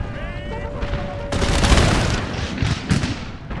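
Cannon and musket fire in Empire Total War: a thick fusillade of volleys and booming shots erupts after a brief quiet, loud and rolling with scattered follow-up bangs.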